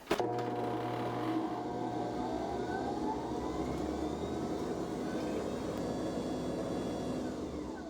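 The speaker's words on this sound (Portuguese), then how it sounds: "Agora em velocidade alta, eu vou bater até montar" A stand mixer whips a Ninho milk-powder cake mousse at high speed, giving a steady loud mechanical whir that holds level throughout with no pauses and no talking.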